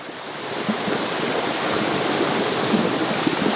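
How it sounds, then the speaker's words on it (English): Rushing river rapids heard from a boat running whitewater, a steady loud broadband roar of churning water that continues without break for the whole stretch, with no talk over it. "We're running the rapids."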